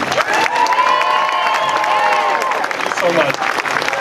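A big outdoor Tea Party rally crowd on Boston Common breaks into loud, sustained applause and cheering for a speaker, with claps and shouts blending into a steady roar that fades toward the end.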